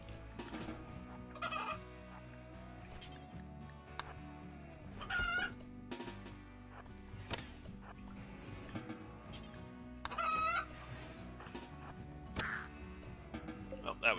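Chickens clucking and squawking in the RimWorld video game, short repeated clucks rising now and then over a steady layer of game music and ambience, with a voice talking throughout.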